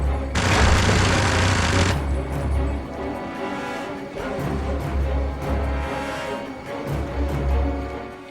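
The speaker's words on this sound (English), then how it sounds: "we actually get to man this turret and shoot the missiles out of the sky" A mounted turret in 007 Blood Stone fires at incoming missiles from a hovercraft, with rapid continuous machine-gun bursts, a loud booming blast early on and rhythmic low thumps throughout.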